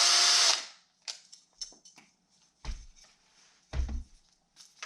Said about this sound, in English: Heck, we might as well just drill it, guys.